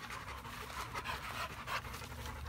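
A dog pants steadily and close by, quick rhythmic breaths with a faint whimper, quiet and with no talking.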